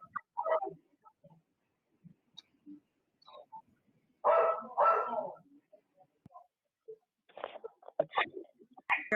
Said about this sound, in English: I'm hearing dogs and the echo in the background.